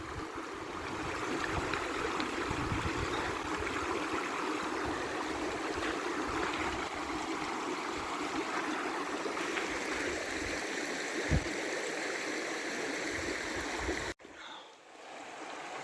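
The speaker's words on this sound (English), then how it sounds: "We're taking a break before we cross the stream." A clear, cold mountain stream beside an old logging road on the Great Divide Trail rushes steadily nearby, a constant close-up wash of flowing water that drops off abruptly near the end.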